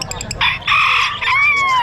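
Golden Sebright bantam chickens at a busy pet market: quick clucks give way to a loud, close rooster crow with a drawn-out, wavering ending.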